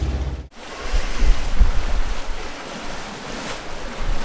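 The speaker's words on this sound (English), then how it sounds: "it's been a little more wind than we expected for today" Strong wind and waves at sea aboard a sailboat on a rough-weather passage, heard as a loud, continuous rushing roar with wind buffeting the microphone and surges of surf and no voices.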